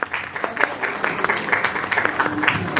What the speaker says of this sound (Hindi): जोरदार तालियां मनोज जी के लिए